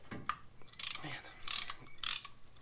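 A ratcheting wheel bearing press tool works on a Jeep Wrangler, making two or three short, bright metallic ratchet rasps close up, separated by brief quiet pauses.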